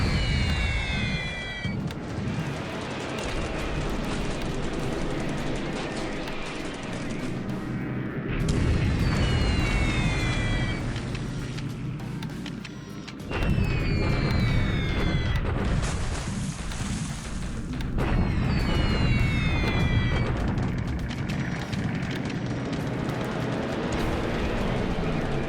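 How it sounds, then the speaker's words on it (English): Bombs dropped by Catalina flying boats burst on warships in a World War II Pacific naval strategy game set in January 1942: a dense, continuous roar of heavy booms and rumbling blasts, overlaid with high falling whistles. "Catalina's again put another bomb in our ships here."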